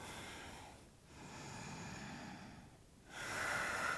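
Deep breathing in and out during a yoga flow session: slow, soft airy inhales and exhales close to the mic, with a sharper nasal breath at the end.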